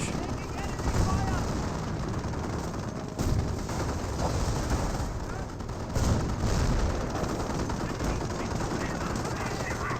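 Heavy gunfire hits Staghound armored cars in a Company of Heroes battle, with continuous machine-gun rattle, bursts and booming impacts throughout and a commentator talking over the din.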